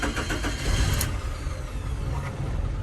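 A car's engine cranks and catches after the ignition key is turned, running with a steady, rumbling mid-pitched idle that stays close and fairly loud throughout, with no talk over it.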